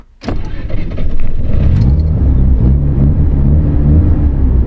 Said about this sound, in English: Starts up right away.